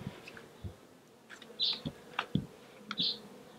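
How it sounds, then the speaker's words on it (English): Honey bees clumped on comb inside an opened trap-out box, with a soft steady buzz running under a few brief louder buzzes and light knocks nearby. "a nice clump of bees here."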